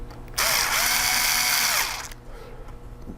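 A power drill drives screws into the drive brackets of an HP Pavilion gaming laptop: one close, loud whirring burst of under two seconds that rises and falls in pitch, followed by quieter handling clicks.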